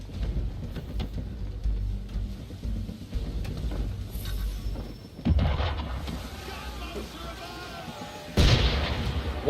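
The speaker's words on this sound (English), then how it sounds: "Why is he shooting at us?" Cannon fire at a ship in the video game Assassin's Creed III, heavy booming blasts hitting around 5 and 8.5 seconds over a steady rumble, with game dialogue and ambient noise throughout.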